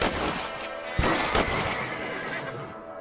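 A horse in the Western video game Red Dead Redemption gives a loud, close whinny, with sharp hoof or impact thumps around the one-second mark and a steady ambient bed beneath.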